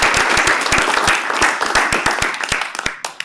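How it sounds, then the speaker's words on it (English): Applause for junior athletes at a regional council meeting, with scattered individual claps and sharp hand slaps over a continuous room patter that thins toward the end. "So let's give them all a big round of applause for"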